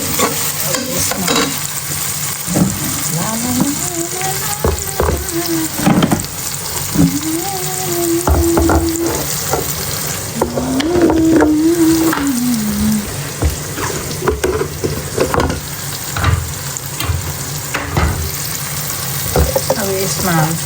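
Greens cooking in a pan on low heat with tomato, sizzling steadily while a utensil stirs and scrapes throughout, with occasional splashes of water; a voice hums or sings a few notes in the middle, with no clear speech.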